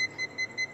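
A non-contact voltage tester held near a live wire gives four short, evenly spaced high electronic beeps over a low steady hum, close and moderately loud.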